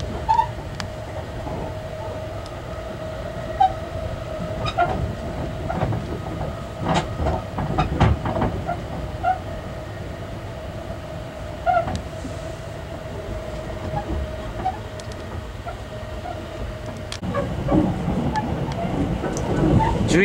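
Sunrise Express sleeper train rolls slowly along the rails near Odawara at night, a low steady rumble inside the carriage with scattered clicks and a constant hum, growing louder near the end.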